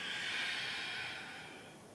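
Slow, audible exhalation during a Pilates exercise, a soft, close breath that rises and then gradually fades over about two seconds, heard alone without speech.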